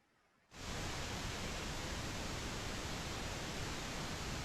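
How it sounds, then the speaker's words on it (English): Pink noise from a mixing console's onboard oscillator, switching on abruptly after a brief quiet moment and then holding as a loud, steady, broadband hiss until the end. "This is the onboard oscillator just bringing pink noise directly into a channel."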